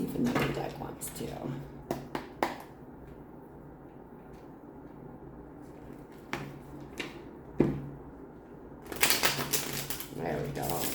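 A deck of cards is shuffled for a reading, with crisp riffling and clattering bursts at the start and again near the end, close by and separated by quieter pauses.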